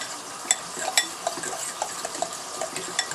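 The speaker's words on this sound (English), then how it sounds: "stir that up a little bit. Get that basil mixed in there good" Basil being stirred into a creamy alfredo sauce in a pan, a soft scraping swirl with a few light utensil taps against the pan over a faint sizzle.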